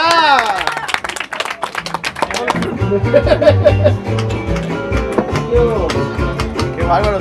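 A group claps along for a dancer on a boat trip through Xochimilco-style canals in Cancún, the clapping mixed with music and lively voices throughout.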